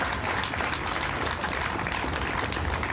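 An audience at a 2014 Memorial Day ceremony claps in dense, steady applause that holds at an even level for the whole moment.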